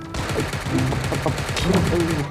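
Gunfire in a battle royale video game, a run of rapid shots crackling continuously through the whole stretch, with a voice talking over it.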